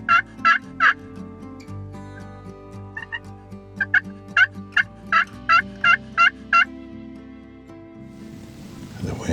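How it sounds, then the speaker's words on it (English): Wild turkeys gobble on a game ranch, a rapid series of loud, repeated gobbles in two bursts, fairly close, over a steady low background rumble with rising wind noise at the end. "I'm hearing gobbles, but they're not coming."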